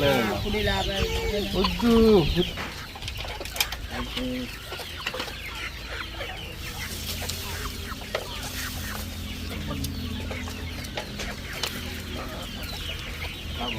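Chickens clucking around a farmyard in Jaffna among coconut palms, a steady mix of short clucks and bird calls at moderate distance, with a louder voice-like call near the start and continuous ambient background.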